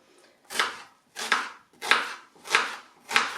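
Five evenly spaced knife chops through a leek on a chopping board, crisp and close, alone with no voices.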